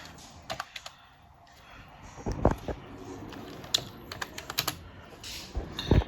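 Someone types one-handed on a computer keyboard while packing orders, giving light, irregular clicks in short bursts, close by, with some soft handling noise.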